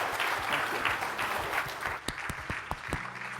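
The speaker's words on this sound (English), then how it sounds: "join me with a big round of applause for a wonderful panel" An audience at a high-level energy forum session gives a round of applause, dense clapping at first that thins to a few scattered, separate claps near the end.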